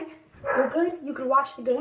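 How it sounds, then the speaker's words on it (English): A dog barking and whining in short bursts close by, mixed with a man's speech throughout. "That's my dog. And it's probably telling me we have to go."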